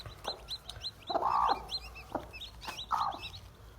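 A hen clucks softly and repeatedly near hatching chicken eggs, with low throaty calls, while small chicks peep steadily in the background.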